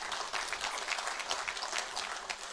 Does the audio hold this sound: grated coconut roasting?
no